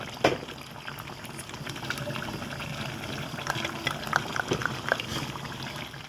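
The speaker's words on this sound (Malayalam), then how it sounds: "തിളയ്ക്കുന്ന സൗണ്ട് കേൾക്കാവോ ഗൈസ്?" Liquid for pickle preparation boils in a pot, a quiet stream of irregular bubbling pops and gurgles that stays faint throughout.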